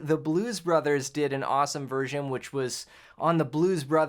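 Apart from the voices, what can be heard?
None of the usual background noises is heard.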